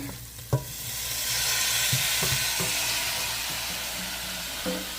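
Meat dropped into onions cooked with curry masala, a loud steady sizzle rising after a thump, with occasional spoon knocks and scraping stirs against the pan, no talking.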